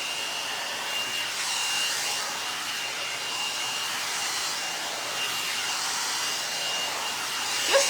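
Hair dryer drying hair, a steady loud blowing whir running without a break and close to the ear, rising slightly at the end.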